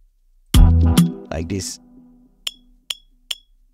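A short burst of voice is followed by three sharp, evenly spaced metallic clinks, like sparse percussion hits ringing out clearly against silence, from a percussion loop in an Afrobeats-style beat made in FL Studio.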